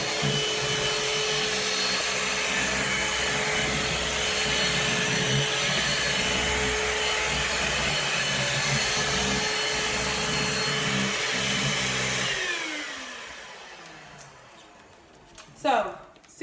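A Bissell Bolt pet vacuum runs with a continuous loud motor whir for about twelve seconds, then powers down and winds off, followed by a few handling clunks and a brief voice near the end.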